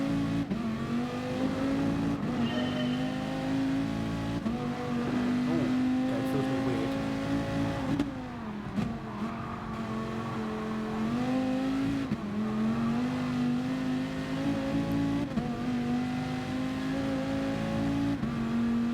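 Dodge Viper engine in Gran Turismo Sport revs steadily and loudly for the whole stretch, its pitch climbing and dropping with each gear change and acceleration, with a brief dip in the middle.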